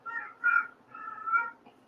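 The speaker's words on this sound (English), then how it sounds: "And like clockwork, she's meowing." A house cat meows twice in a row, a short call followed by a longer drawn-out one, close and moderately loud in a quiet room.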